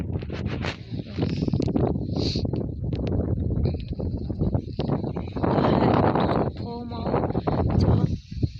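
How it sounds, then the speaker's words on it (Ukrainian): Strong wind buffets the microphone while ice fishing in winter, a constant rumbling roar with gusts, while someone talks over it throughout. "Вельми сильний вітер, я не знаю, чи мене буде чути."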